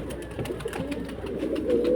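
A young pigeon of the Paschim breed gives soft, low coos close by, mixed with light rustling from handling and slightly louder toward the end.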